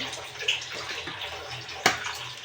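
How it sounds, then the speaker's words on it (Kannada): Mixed vegetable pulao boiling in a pot with its lid open before a pressure-cooker whistle, giving a faint, steady bubbling hiss with a single sharp clack near the end. "ಕುದೀತಾ ಇದೆ"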